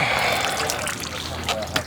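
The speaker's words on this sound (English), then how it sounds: "this water is going to have to go right here on the ground because of how the pump is configured" Water from a pool pump drains straight onto the ground, a steady trickling and splashing stream that runs close by and fairly loud through the whole moment.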